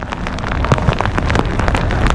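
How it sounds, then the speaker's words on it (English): Steady rain falls on a lake during a bass fishing trip in the grass, a loud, continuous patter of drops with scattered sharper splats, heard alone with no talk. "rain's never gonna end."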